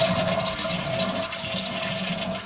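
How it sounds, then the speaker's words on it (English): A 2007 Kohler Wellworth toilet flushing close up, a loud rushing swirl of water that eases slightly as the tank drains, with no voices. "Now that's a proper flush."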